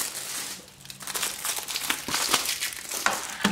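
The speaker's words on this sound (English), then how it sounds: "I'm trying to take the zipper of my hoodie to pop the plastic" Crinkling and crunching of Blu-ray plastic shrink wrap as it is pried and popped open with a hoodie zipper, a close, steady rustle with sharper crackles toward the end.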